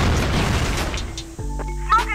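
A grenade bursts in a first-person shooter with a loud, heavy boom that rumbles and fades over about a second, then a short pop follows under brief game sounds.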